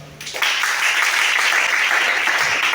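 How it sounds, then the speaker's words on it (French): A church congregation applauds loudly during a Sunday worship service in Libreville, Gabon: dense, sustained clapping that bursts in after a brief pause and continues steadily at close range. "Acclamez chacun."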